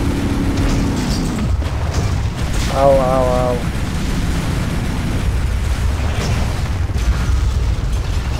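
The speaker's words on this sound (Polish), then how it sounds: "O, wybuchy!" Deep booming blasts from the video game Advent Rising roll along continuously, with a voice crying out in short pained yelps partway through.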